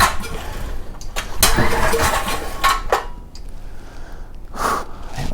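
Rough, sputtering pulls on a 5000 watt generator engine that fails to start, several ragged bursts of cranking and mechanical rattling close by.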